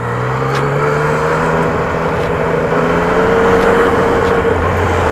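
A Yamaha MT-09 Tracer motorcycle overtaking cars, with a loud, steady engine drone and wind roar heard from on board, pitch slowly shifting as it pulls past traffic.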